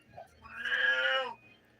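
A house cat lets out one drawn-out, loud meow close by, swelling and fading over about a second, with a quieter sound before it and stillness after.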